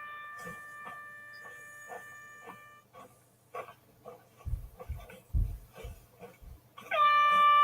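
An air horn app blares in the Call of the Wild PC hunting game, loud sustained tonal blasts sounding at the start and again at the end, separated by quieter thumps and rustling in the game's outdoor ambience.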